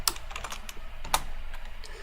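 Keystrokes on a computer keyboard while entering Python code, a quick irregular run of clicks with a sharper tap near the middle, close and fairly quiet, no voice.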